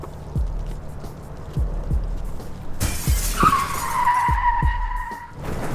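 A car skids in a game of car dodgeball: a few dull thumps, then a loud, sustained tire squeal lasting nearly two seconds before cutting off abruptly.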